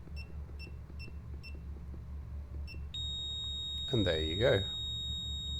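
A FNIRSI DMT-99 multimeter sounds its voltage alarm: a row of short, evenly spaced beeps, then a steady high-pitched alarm tone that holds to the end, close by, with someone speaking briefly over it.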